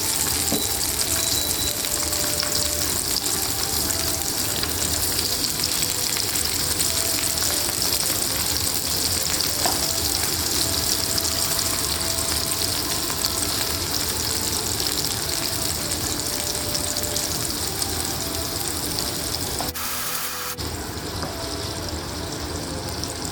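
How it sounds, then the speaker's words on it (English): Tofu frying in a pan of hot oil, a steady dense sizzle and crackle that runs throughout, loud and close, with a brief dip near the end and no talking. "we are going to start with frying the tofu"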